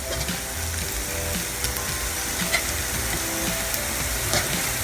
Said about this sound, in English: I'm going to mix it up and then let it fry.